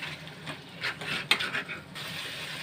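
A spice paste of chilli powder, turmeric and a little water is sautéed for a fish curry, a soft sizzle broken by a few scraping stirs and light clinks of utensil against pan, fairly quiet and close.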